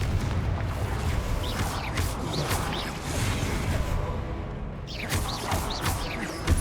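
A Confringo blasting spell goes off in Hogwarts Legacy, booming fire-bursts and whooshing magical blasts in quick succession over dense, continuous game noise, with a brief dip before another swooshing burst.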